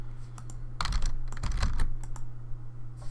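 Keystrokes on a computer keyboard tap in irregular bursts and clusters, close and moderately loud over a low steady hum, with no talking.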